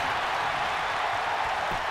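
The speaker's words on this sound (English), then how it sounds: "The crowd is on his feet here in Virginia Beach." Arena crowd noise in a WWE 2K19 wrestling match set in Virginia Beach, a steady loud roar of cheering and applause throughout, with no commentary over it.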